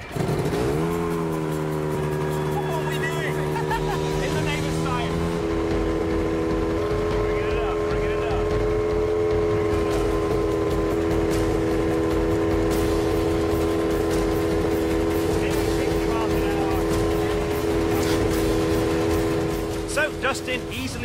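A powerful fan blasts a steady 60 mph wind in a hovercraft test, a loud continuous roar with steady droning tones that stays constant throughout while people talk over it.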